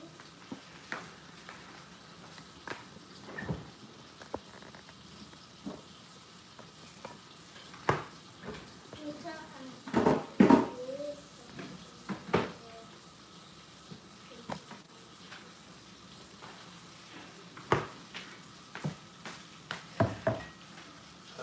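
Onions fry in a cauldron for shah plov, a soft steady sizzle broken by scattered scrapes and clanks of stirring, with one louder burst of knocks partway through.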